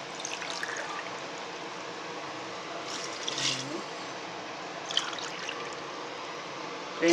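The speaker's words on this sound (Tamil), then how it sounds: "4 கப்பு வாட்ரு ஊற்றிருக்கு." Water poured into rice for kuska biryani, a soft, faint, steady trickle running for several seconds with a few brief splashes.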